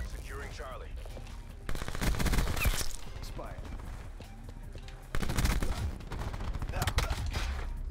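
Video game gunfire in Black Ops 4, loud bursts of automatic shooting in two main stretches with someone talking over the combat.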